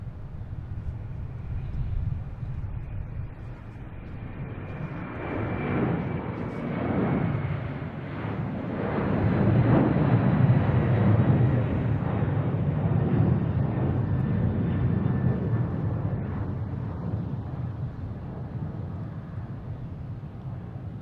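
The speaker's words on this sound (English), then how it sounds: "There we get UPS taking off, heading to Louisville." UPS cargo plane taking off from Boston Logan airport, a broad jet engine roar that builds to a peak midway and slowly fades as the aircraft departs, heard from a distance with wind noise.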